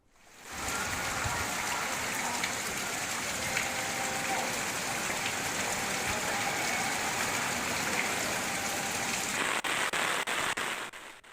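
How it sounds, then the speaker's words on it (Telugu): Heavy rain pours down steadily in Tamil Nadu, a dense, continuous hiss close to the listener that starts almost at once and holds evenly to the end, with a few sharper drops near the finish. "తిరునెల్వేలి, కన్యాకుమారి, నాగపట్నం, తూత్తుకుడి జిల్లాల్లో కుండపోతగా వర్షాలు పడుతున్నాయి."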